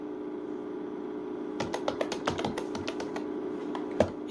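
Keystrokes on a computer keyboard while entering student data into a spreadsheet, a quick run of irregular clicks starting partway in over a steady background hum, with one louder tap near the end.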